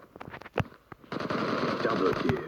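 AK-47 automatic fire in the mobile shooter Zula Mobile: a few scattered shots early on, then a dense, continuous burst of loud, close rattling gunfire, with a voice talking over it.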